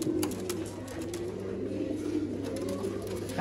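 Pigeons coo steadily and low, close by, in a continuous murmuring drone with soft fluttery calls layered over a constant background hum.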